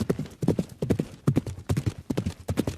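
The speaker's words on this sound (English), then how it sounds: "there was the thunder of hooves" Horses race in Ghana, their hooves pounding in quick, uneven clusters of heavy thuds that sound close and loud, with no voices over them.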